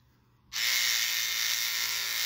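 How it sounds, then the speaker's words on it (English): An electric toothbrush switches on and buzzes steadily against hair algae in a small 3-gallon reef frag tank, a sustained close, loud whir starting after a brief quiet moment. "You don't have to use an electric toothbrush either."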